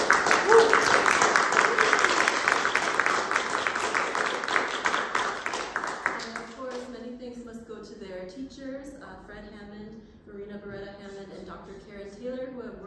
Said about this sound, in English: Can we give our performers a round of applause?